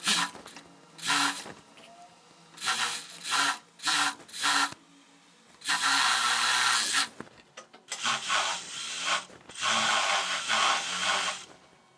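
A straight-stitch sewing machine finishes a narrow half-centimetre hem on a midi dress. It runs in short bursts and longer buzzing runs, stopping and starting repeatedly, with brief quiet pauses in between.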